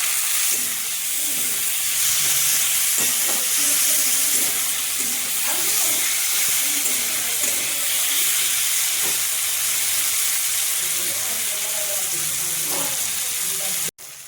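Tomatoes and salt hit fried onions in a pan for a tangra fish curry, raising a strong, steady hiss of sizzling steam that runs nearly the whole time and cuts off abruptly at the end.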